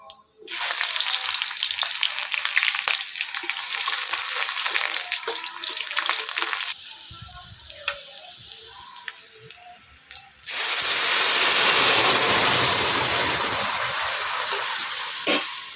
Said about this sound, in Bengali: আজকে বড় কড়াইতে ডাল সম্বার দিচ্ছি